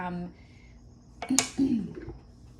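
Garden-fresh marinara ladled into a Vitamix blender: a couple of sharp metallic clinks of the ladle against the container, then a wet slosh as the sauce pours in, close by, after a voice briefly speaks.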